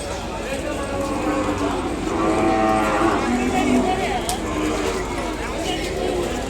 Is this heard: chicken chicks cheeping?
no